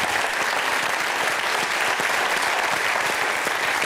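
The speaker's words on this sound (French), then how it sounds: "On va faire des gros applaudissements" Thick, even applause from a studio audience on a French television talk show rolls on without a break, loud and close, with no speech over it.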